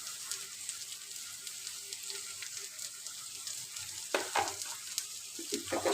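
Sambar being stirred in a pot after salt goes in, a soft steady bubbling sizzle with light scraping strokes that grow slightly louder toward the end.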